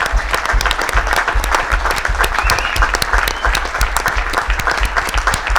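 Loud, sustained applause from an audience at a city town meeting honoring a retiring official, steady dense clapping across the whole stretch with a few cheers mixed in.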